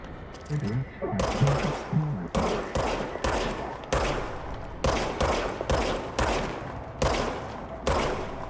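Rapid gunfire from a gun in the video game Control crackles in repeated bursts across the clip, with short pauses between them and a voice talking under the opening shots.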